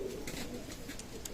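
A male KTM pigeon coos in soft, low murmuring bursts amid steady background noise, its calls close but fairly quiet.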